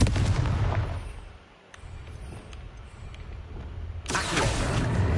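A Confringo spell bursts in a Hogwarts video game with loud blasting explosions and booming impacts at the start, a brief lull, then another explosive rumble toward the end.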